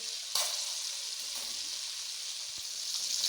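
Chicken pieces frying in a pan of hot oil for a crispy fried chicken recipe, a steady close sizzle holding at even loudness throughout, with a couple of faint clicks and no voices.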